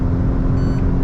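Citroen C3 Aircross with a manual gearbox pulling hard in third gear, a steady loud engine drone and road rumble with a constant hum, sustained without gaps or breaks.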